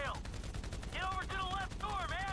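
Gunfire in the video game GTA 5 during an offshore heist mission, rapid repeated shots forming a dense burst of fire under a player's excited talking.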